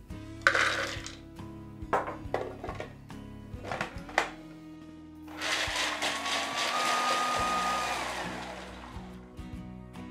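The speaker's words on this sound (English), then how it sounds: "pop them in the food processor and blend them into a kind of powder" A food processor grinds almonds and pecans into powder, starting with several sharp knocking bursts as the nuts hit the blades, then settling into a steady loud whirring run for several seconds, close by with no talk.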